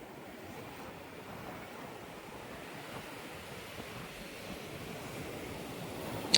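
Sea surf at Vayangani beach in Konkan washes continuously onto the shore, a steady broad roar with some wind buffeting the microphone and no voices.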